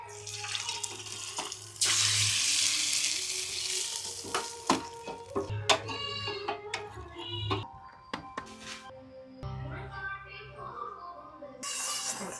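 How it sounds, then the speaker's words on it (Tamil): Mustard seeds, cumin and curry leaves crackle and sizzle in hot tempering oil for a village-style red pachadi, with stirring and kitchen clatter, running water and bursts of loud hiss close by. "கடுகு போடுவோம். ஜீரகம், கறிவேப்பிலை நல்லா தாளிச்சிட்டோம்."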